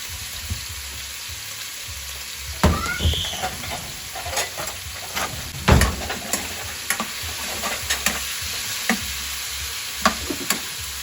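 Chicken pieces sizzling in a hot pan, a constant crackle broken by scraping stirs and sharp spits, close and alone.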